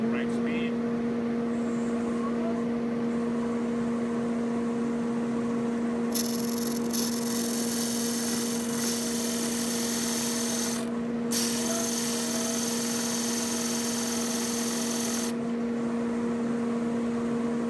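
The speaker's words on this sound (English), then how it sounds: "turn on my dust collector, turn on the machine at the right speed" Shopsmith disk sander running alongside a dust collector, a steady machine drone with a strong hum throughout and a brighter abrasive rasp of sanding that comes in and out in the middle stretch.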